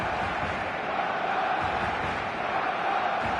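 Stadium crowd in the eFootball video game, a constant dense roar of many voices, steady and loud across the whole stretch with no clear breaks.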